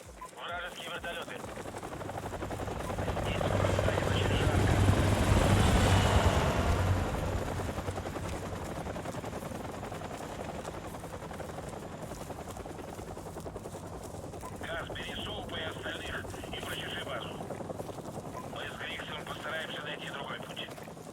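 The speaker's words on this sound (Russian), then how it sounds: "Вражеские вертолеты." Enemy helicopters in Call of Duty Modern Warfare Remastered make a rumbling rotor drone that swells loud and then eases off, mixed with bursts of gunfire and other game noise.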